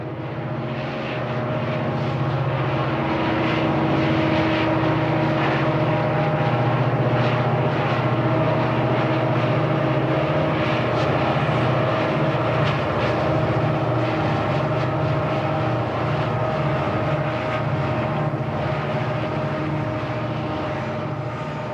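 Four Santa Fe SD24 diesel locomotives from the 1960s working a heavy train, a loud continuous engine drone with a deep low rumble and steady hum holding for over twenty seconds, without talk.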